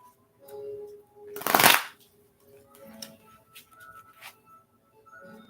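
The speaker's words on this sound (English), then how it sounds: "Let me shuffle the cards." A deck of cards shuffled for a live spiritual reading: one loud riffle burst early on, then scattered soft card handling and quiet taps, close by with no talking.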